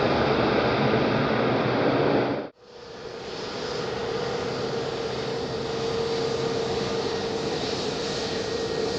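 Binter propeller airliner at windy Madeira Airport, its engines a loud continuous roar that cuts out abruptly for a moment, then returns as a steady drone with a faint tone, wind rushing throughout.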